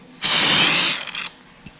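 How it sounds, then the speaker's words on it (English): A short hissing burst of Pam cooking spray into a bowl, one loud spray of about a second that sputters briefly before stopping, with no voices. "First, you spray the bowl."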